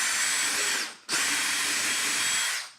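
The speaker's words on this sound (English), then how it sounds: "I'm using a 7/32 drill bit" A power drill with a 7/32 bit bores a hole for a brake light wire in two loud, steady high-pitched bursts separated by a short pause.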